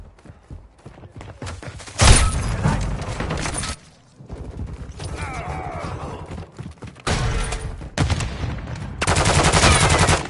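Bursts of rapid automatic gunfire from a Call of Duty match, loud sustained volleys broken by short pauses and lighter scattered shots, with faint radio-style chatter in the background.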